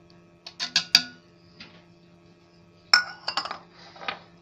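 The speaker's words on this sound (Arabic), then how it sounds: "دلوقتي حبايبي هبدأ ان انا اضيف بقى النشا" Cornstarch added to mango juice in a bowl, with a handful of sharp clinks of a spoon against glass in two short bursts separated by a quiet pause, close and clear.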